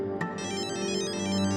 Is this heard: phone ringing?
yes